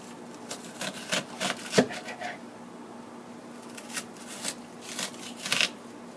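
A knife slices through an onion on a cutting board, giving a run of close, quiet crisp cuts and scrapes with one sharper knock on the board, over faint background hum.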